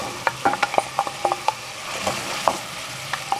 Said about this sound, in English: now I'm going to add 2 full cups of chopped zucchini